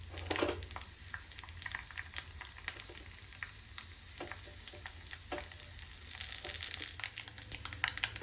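Broken dried chillies sizzling in hot coconut oil with mustard seeds and fenugreek for a Kerala kalan curry tempering, a soft continuous crackle dotted with sharp pops and spits, fairly quiet and close.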